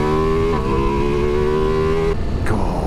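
A Ducati Multistrada V4S Rally motorcycle under way on the road, its engine holding a loud, steady humming drone that shifts pitch briefly as the rider changes gear, with rushing wind throughout.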